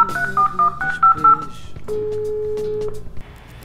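A telephone being dialed to place a call: a quick run of short DTMF keypad tones, followed by a long, steady tone, clear and close with no talking.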